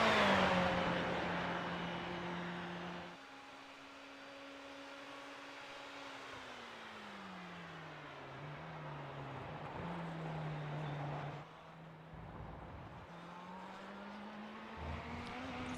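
An LMP2/GTE prototype race car laps Indianapolis Motor Speedway in iRacing, its engine droning steadily and rising and falling in pitch through gear changes and corners, heard alone without talk.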